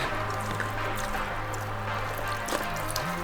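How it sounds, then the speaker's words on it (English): Water dumped from a container onto the ceramic-coated paint of a beat-up turbo diesel VW Jetta, splashing and trickling steadily for a few seconds, close and fairly quiet, with no talk. "Let's dump some water on it and see how well that ceramic coating works"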